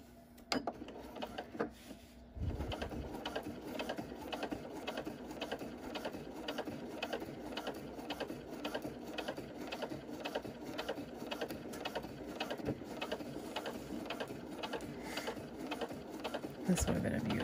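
Sewing machine stitching a quilt, a rapid even mechanical rattle that starts after a short pause and runs steadily, close and clear, with a brief louder thump near the end.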